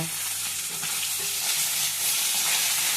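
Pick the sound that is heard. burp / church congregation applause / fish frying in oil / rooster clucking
fish frying in oil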